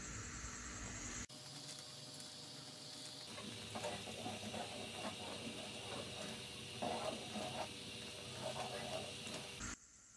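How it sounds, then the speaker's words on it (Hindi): Thickening kulfi milk mixture with pistachios and almonds boils in a pot, giving a soft, continuous hiss and fine bubbling patter, faint and close, with a sharp shift as the lid or heat changes early on. "ये देखिए काफी थिक होना शुरू हो गई है और बॉयल भी अच्छे से आना शुरू हो गया है।"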